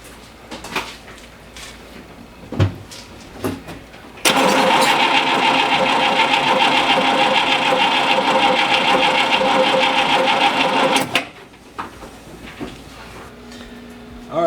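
A car engine fires up on a freshly worked, wet and leaking carburetor and runs steadily and loud for about seven seconds before cutting off, with scattered knocks and handling noises before and after.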